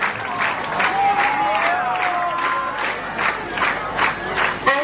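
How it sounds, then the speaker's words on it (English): A crowd at a regional Catholic youth convention applauds a bishop with sustained clapping and scattered cheers and shouts rising in waves over several seconds. "Let us all give a huge round of applause for Most Reverend George Boliparambil SDB, the Bishop of Myo Diocese."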